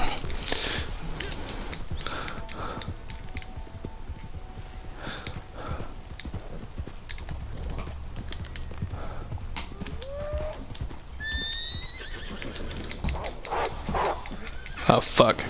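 Horse hooves clip-clop on the ground in Red Dead Online, with a short whinny or neigh partway through and outdoor nature ambience, while someone talks and curses over it.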